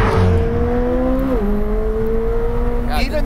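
McLaren 765LT Spider engine pulling on partial throttle, a steady tonal drone that dips briefly mid-run and then climbs again, loud and close, with faint talk beneath it.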